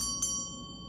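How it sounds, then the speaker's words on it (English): A small handheld bell struck once for energy cleansing, a bright ring with a sustained high tone that slowly decays in a quiet room. "use a bell like this or a singing bowl."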